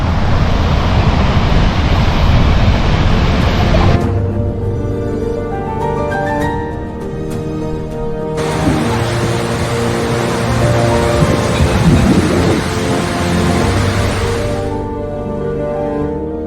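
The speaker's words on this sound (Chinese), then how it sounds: "现在是放水的阶段，然后形成了一个壮丽的瀑布" A dam releasing water into a waterfall near the Svartisen glacier in Norway, a loud, steady broadband roar that dips briefly partway through before surging back and then fading at the end, with no voices.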